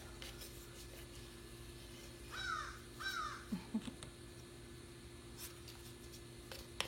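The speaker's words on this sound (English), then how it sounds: "I've got a friendly crow joining in this conversation today." A crow caws twice in quick succession at a distance outdoors, faint over steady background hum and noise during woodworking with Bondo filler.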